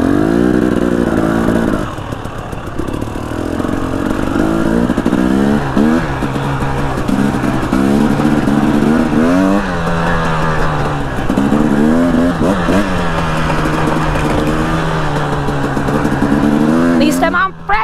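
A Honda CRF300L dual-sport motorcycle rides off-road, its single-cylinder engine droning loud and close with repeated rising and falling revs as throttle and gears change, under steady wind noise, with a voice talking over parts of it.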